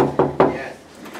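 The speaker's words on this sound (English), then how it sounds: "You knock on the door." Two sharp knocks on a door backstage at a Broadway show, the raps landing a fraction of a second apart at close range, followed by a brief murmur of room noise.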